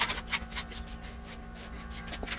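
Steady rubbing rasp of a 220 grit sanding pad smoothing a water-based semi-gloss polyurethane finish on wood between coats, close and continuous with rhythmic strokes.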